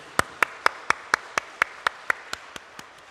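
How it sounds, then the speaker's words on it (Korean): A congregation applauds in church during a Sunday service: about twelve sharp, evenly spaced claps in a steady rhythm, fairly close and clear, with no talking over them. "우리 모두 수고하신 분들께 박수로 한번 영광 격려 돌리겠습니다"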